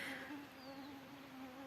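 Mosquitoes and other insects whine faintly but steadily outdoors in a protected valley landscape at Piusa, southern Estonia, a thin continuous buzz over quiet ambience.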